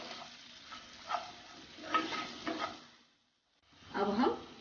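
Karonda berries, green chillies and salt are stirred together in a pan, giving a few scraping, clattering strokes over a faint sizzle, then a pause and a louder burst of stirring at the end.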